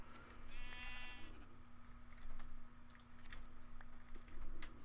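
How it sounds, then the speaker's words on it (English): Sheep in a Minecraft forest biome bleat in short synthetic calls, one tonal bleat early on followed by clicks and game sounds over a steady background hum, with no voices. "there's some sheep right there."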